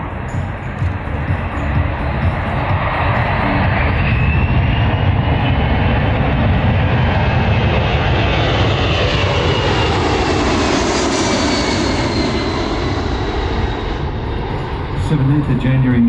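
An aircraft engine roars loud and continuous during an airshow landing approach at Wings Over Illawarra, a broad steady drone that swells slightly as the plane passes, with a voice talking over it.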